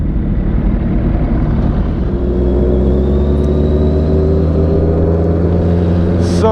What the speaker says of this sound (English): You hear the motor.